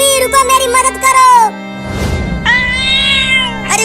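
Cartoon cat meows in a series of drawn-out, pitched calls, loud and close, with a pause before a final longer meow amid light background noise.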